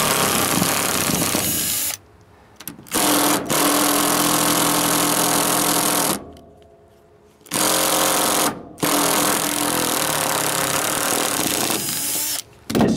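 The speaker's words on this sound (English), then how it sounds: "Love these impact drivers. They do work pretty good." Impact driver sinks rusty screws into wooden boards on a 6'x10' Triton trailer, loud long rattling runs broken by short pauses, with one clear stop in the middle and a quick burst at the end.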